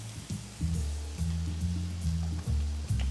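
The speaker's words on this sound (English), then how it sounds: "Time to get our wonderful steaks in now. Get that sear going." Steaks searing in a hot pan give a soft, steady sizzle beneath a loud, low humming drone that shifts in steps, with no talking.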